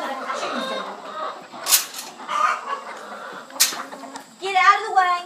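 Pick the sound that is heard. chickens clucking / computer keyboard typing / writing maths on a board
chickens clucking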